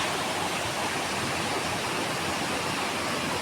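Rushing water from a stream and waterfall near a village temple pours steadily in a dense, continuous roar, close and loud throughout with no voices.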